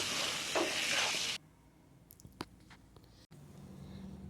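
Meat stirred into spices in a pan, a loud sizzling fry for the first second or so, then quieter scraping and clinks from the spatula against the pan.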